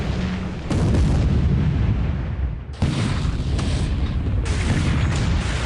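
Heavy naval bombardment booms through a War Plan Orange game, with deep, loud, continuous rumbling blasts and abrupt cuts between waves of artillery fire.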